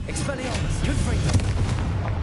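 Confringo blasting-curse explosions in Hogwarts Legacy: a steady stream of close, crackling blasts and booms overlaps continuously, with a voice talking over them.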